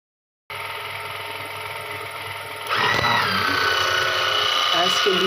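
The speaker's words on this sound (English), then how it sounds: "the relay turned on and the gearbox was lubricated" A relay clicks on and a gearbox lubrication system starts, giving a continuous mechanical whir and rattling drone that abruptly grows louder and denser partway through, with gear-like ratcheting under it.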